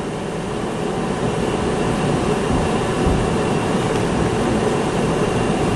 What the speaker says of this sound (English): This is a green line going east and I'm going to get on this train.